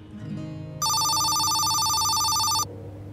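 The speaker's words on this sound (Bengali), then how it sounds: "ফোন এসেছে" A telephone rings with a loud electronic warble that starts abruptly, holds for nearly two seconds and then cuts off, over a quiet indoor background.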